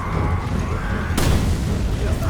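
An explosion in the video game Resident Evil 5 bursts out as a single broad boom over a rumbling game soundscape, with a voice talking across it.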